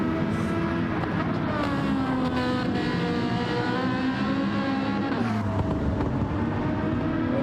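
A Ferrari DTM race car screams through gears in a racing game, its engine note rising steadily, dropping on a shift around the middle and climbing again, loud and continuous with commentary voices beneath.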